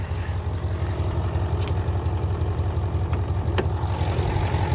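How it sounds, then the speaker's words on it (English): A 2017 Audi SQ7's 4-litre twin-turbo V8 idles steadily, a deep, even low rumble with a slight pulsing throb, close and continuous, with no talking over it. "let's get to the beating heart of it, that 4 litre twin turbo V8"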